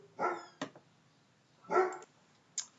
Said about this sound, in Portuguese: O que estão latindo aí?